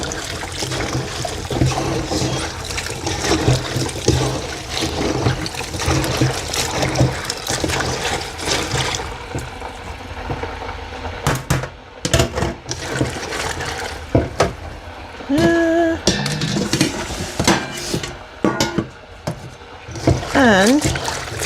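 Water runs and splashes over cauliflower being washed under a kitchen tap, a steady trickling rush with brief clatters, while a person talks over it.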